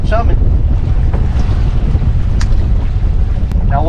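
Strong wind gusting over open water beside a fishing boat, with the tide running against it: loud, steady roaring buffeting across the mic, close and continuous, with a faint brief call or squeak near the start and end.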